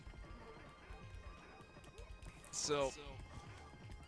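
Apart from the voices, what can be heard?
pony hooves clip-clopping in a video game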